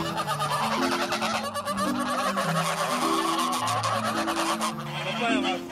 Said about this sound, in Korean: 오리입니다.